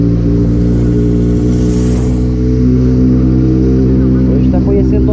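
Motorcycle engine droning steadily while riding through the quiet town of Nova Campina, SP, loud and close with constant wind rush and no clear change in pace.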